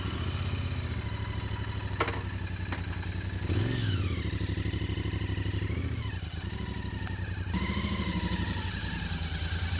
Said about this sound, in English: That's the first ride of the year done, but will it be the last ride of the year on the Interceptor?